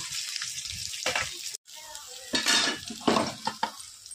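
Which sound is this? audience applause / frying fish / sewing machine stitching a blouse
frying fish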